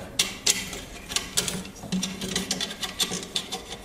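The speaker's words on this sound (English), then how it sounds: "we're just going to tighten the wing nut until we are crimping our new mop head" A wing nut on a mop bucket's V-clamp is tightened to crimp a new mop head, giving a quick, uneven run of close, dry ratcheting clicks and creaks.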